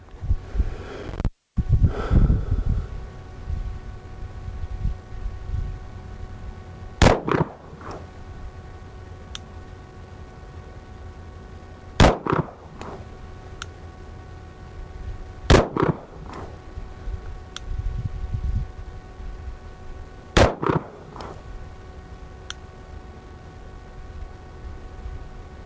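Glock pistol with a conversion barrel fired at a target: about six sharp shots spaced several seconds apart, each a crisp crack over a quiet outdoor background, some followed by a short echo.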